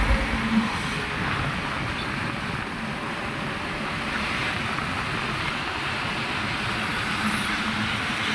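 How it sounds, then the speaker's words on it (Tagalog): Steady mechanical rumble of industrial plant machinery running continuously beside a river, a dense low drone with no voices. "Naririnig naman po natin ang andar po ng mga makina ng planta."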